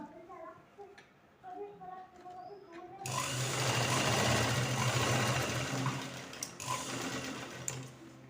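A sewing machine stitches a one-piece dress made from a saree, starting abruptly after someone speaks and running as a steady close whir for several seconds before tapering off.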